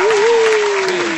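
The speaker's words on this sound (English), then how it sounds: "give a big round of applause for" Studio audience applause on a live radio show: a short, steady burst of clapping from a small crowd, with a sustained tone running under it the whole time.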